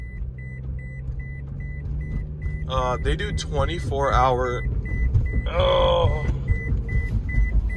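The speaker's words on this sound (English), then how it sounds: "Stop beeping!" An electric Jeep on a car dealership lot sounds a repeated steady electronic beep in an even rhythm, nearby and moderately loud, heard beneath someone talking over it.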